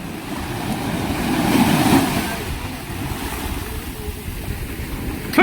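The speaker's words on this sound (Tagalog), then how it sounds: "Kalma naman, dito lang sa tabi may konting alon." Small waves lapping beside a boat near the shore of a river, a continuous close wash of water with wind buffeting the microphone, swelling midway and easing off, no voices.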